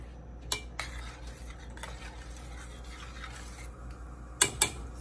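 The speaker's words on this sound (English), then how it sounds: "Stir it up, put the lid on" A spoon stirs tomato, okra and corn soup in a pot, giving soft scraping under a steady low hum, with a few sharp metallic clinks near the start and two louder knocks of metal on the pot near the end.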